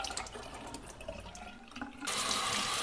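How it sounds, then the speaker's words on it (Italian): Tap water runs over almonds soaked overnight as they are rinsed in a sink, an irregular splashing that swells into a loud, steady gush partway through. "diamo anche una sciacquata alle mandorle"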